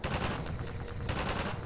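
Sustained rapid automatic fire from a companion's machine gun in Half-Life 2, loud and continuous with dense overlapping shots across the whole stretch.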